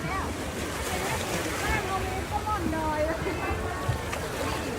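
Sea surf on a beach washes in a continuous broad roar, close and buffeted by wind noise on the microphone as someone wades into the water, with someone talking over it.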